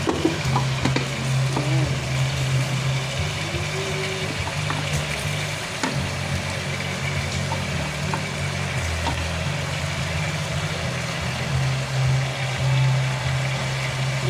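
Bottle gourd (upo) frying and being stirred in a pan, a continuous dense sizzle with a low steady hum beneath and occasional scrapes, close and fairly loud with no talking.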